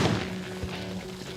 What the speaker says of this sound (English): Adams found the source of that thunk that shook the blast screen